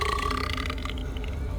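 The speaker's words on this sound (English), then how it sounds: "it's not on the same level as the belching contest at the tavern" A belching contest in the video game Dungeon of Naheulbeuk: one long, loud, rumbling burp rolls on without a break for nearly two seconds.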